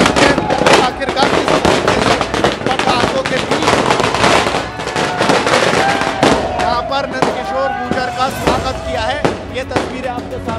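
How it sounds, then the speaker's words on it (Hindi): Rapid strings of firecrackers crackle and pop continuously, loud and dense, with voices and crowd noise mixed underneath. "किस तरीके से पटाखों के साथ यहाँ पर स्वागत करते नजर आ रहे हैं।"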